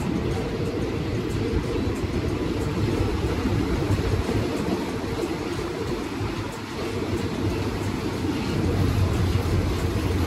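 A train at Pak Chong railway station in Thailand, a steady low rumble with a continuous droning roar that stays loud and even, dipping briefly midway before resuming.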